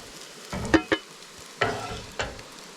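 Onions being stirred in a pan while caramelizing, heard as four brief scraping strokes with a soft sizzle beneath them and quiet gaps in between.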